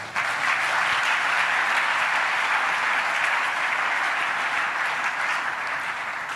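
A church congregation claps for Jesus with loud, sustained applause that continues steadily from start to finish.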